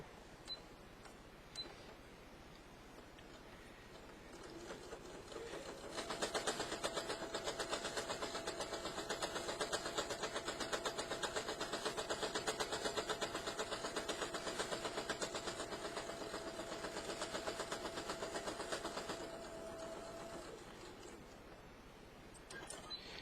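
A sewing machine top stitches along the edge of a two-layer, three-panel fabric face mask, running as a steady mechanical whir for about fourteen seconds, with quieter handling noises before and after.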